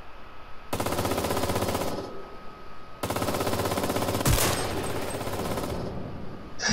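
Rapid automatic gunfire in a first-person shooter video game, two long loud bursts separated by a short pause, then a single heavy blast and fading echo.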